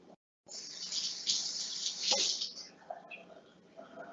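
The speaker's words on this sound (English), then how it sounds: "Let me rinse my hands again" Tap water runs over hands being rinsed in a kitchen, a bright hissing stream of about two seconds that tapers off into faint drips and splashing.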